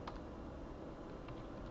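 Fingers type a terminal command on a computer keyboard in a quick, faint run of close clicking keystrokes with no voice.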